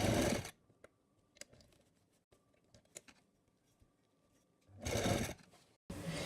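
A sewing machine stitches a folded seam on a long gown, a short loud whirring run at the start and another near the end, with quiet ticks and handling sounds between.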